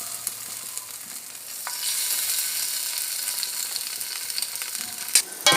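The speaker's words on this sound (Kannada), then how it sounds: "ಈಗ ಒಂದೊಂದು ಪೀಸ್ ಫ್ರೈ ಮಾಡುವ." Pieces of egg fry in a pan with a steady, close hiss that swells after the first couple of seconds and keeps crackling, with a few sharp clicks near the end.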